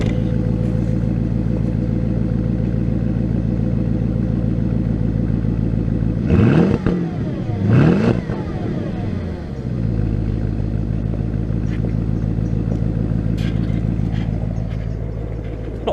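A Porsche Cayenne Turbo runs through a cheap modified exhaust, filmed at the tailpipe: a loud, steady idle with two quick blips of the throttle in the middle, then settling back to idle, with no talk.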